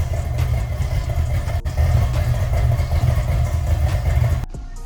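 A box Chevy engine idles roughly with a steady, loud low rumble that sounds close to stalling, then drops off abruptly near the end.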